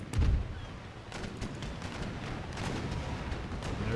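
Naval cannon fire during a ship battle in Empire: Total War with Darthmod, a deep boom at the start followed by a continuous rumbling roar of distant gunfire and crackling reports.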